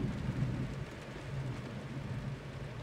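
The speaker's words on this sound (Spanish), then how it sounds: "Ahorita todavía está un poquito más moderada la lluvia" Rain pours steadily in Monterrey, a dense wash of noise with a low rumble beneath that fits distant thunder, constant and moderately loud with no voices.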